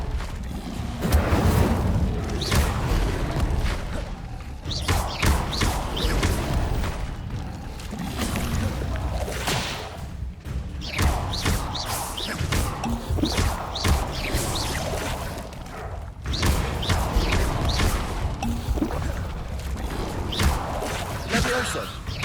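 Incendio fire spells from Hogwarts Legacy burst out repeatedly in loud, crackling whooshes. The blasts follow one another almost without pause over dense game combat noise.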